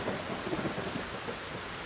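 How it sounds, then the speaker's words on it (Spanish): A thunderstorm with heavy rain in the survival video game Force of Nature 2: a dense, steady roar of rainfall with low thunder rumbling underneath, loud and continuous, with no voices. "Wow, vaya tormenta."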